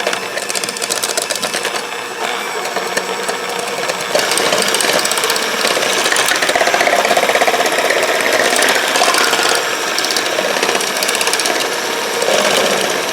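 An electric mixer whirs steadily while mixing sugar into batter for light no-butter croissant dough, a continuous buzzing motor up close with no talk.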